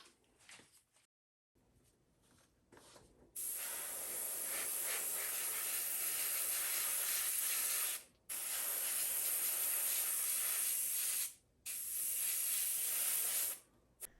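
Airbrush spraying black primer onto miniatures: a steady, close hiss in long bursts broken by short pauses, after a quieter stretch of faint handling at the start.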